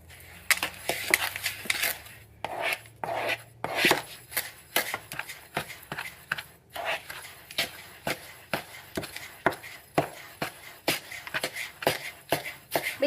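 Candy cane bits are stirred into a sticky mixture, making a steady rhythm of scraping and clinking utensil strokes against a bowl, close by and fairly quiet.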